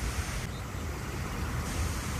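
Water fountain beside the sea at the Abu Dhabi Corniche gives a steady, broad hiss of spraying and splashing water, mixed with faint wind, with no talking.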